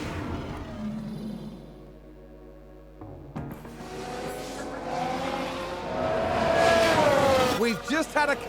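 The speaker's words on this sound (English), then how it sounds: "Sounds like we've had a spin." In the F1 Manager video game, a race car spins: engine whine and tire squeal with pitch swoops build over several seconds, under commentary-like talk.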